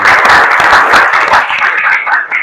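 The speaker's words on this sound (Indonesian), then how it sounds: "Tepuk tangan buat Elin." Classroom of students applauds loudly and steadily for a classmate's answer, with fast, close hand clapping that fills the whole moment before fading slightly at the end.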